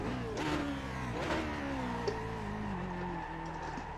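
Lotus 49 race car engine in iRacing, a steady near engine drone with falling and shifting harmonic tones as the car decelerates and revs, with faint clicking alongside and no speech.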